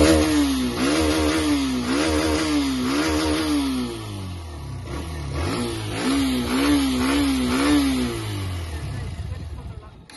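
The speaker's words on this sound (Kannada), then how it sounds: "ನನಗೀಗ ರೇವ್ ಮಾಡಬೇಕಾದ್ರೆ ಸ್ವಲ್ಪ ಇಂಜಿನ್ ಸೌಂಡ್ ಬರ್ತದೆ ನೋಡಿ" A Hero Xtreme 125R motorcycle engine revs up and down close by in two repeated bursts, with a wavering, rising and falling drone and a buzzy mechanical edge.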